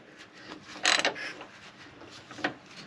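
A seized engine cradle bolt on a Saturn VUE creaks as it is forced loose, giving a few short, scraping groans close up, the loudest near the middle and another near the end, with no talking.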